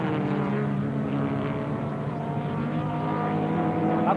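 Leyland Mini race cars lapping Phillip Island circuit over Lukey Heights, their engines a continuous loud droning whine with steady harmonic pitch, no break in the roar.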